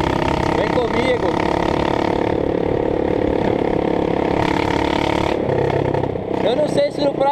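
A Honda CRF 230 dirt bike engine with only an exhaust pipe runs loud and close, rumbling and revving steadily, with a few higher whining rises near the end.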